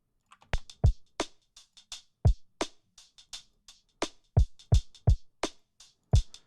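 A dry, sparse drum pattern with punchy kicks and crisp snare and hat hits in a steady groove, played alone.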